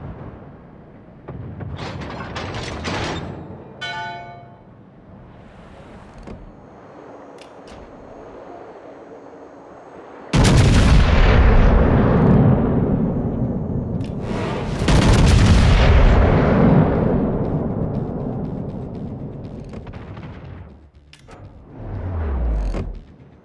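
Heavy naval guns from the Pommern battleship fire in World of Warships, delivering two loud booming salvos that roll into long rumbling decay, with lighter distant shots and brief radio-style game voice callouts earlier.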